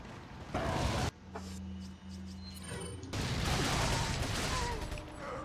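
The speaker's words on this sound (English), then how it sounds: "We'll use another incinerator grenade." An incinerator grenade in Resident Evil 4 goes off in a loud burst of fiery roar that cuts out after a second, a quieter humming lull follows, then a second heavy blast of flame and crackle sustains to the end.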